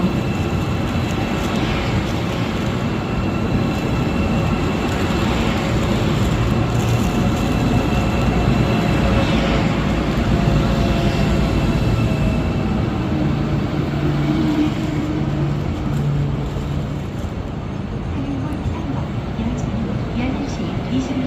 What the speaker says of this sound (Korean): 열차가 진입하오니 노란선 안쪽으로 물러서 주시기 바랍니다